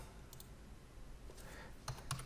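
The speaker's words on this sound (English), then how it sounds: "Type in your password and then click allow." Faint clicks of someone typing a password on a computer keyboard, a few scattered keystrokes in a quiet room, ending in a brief quick cluster of taps.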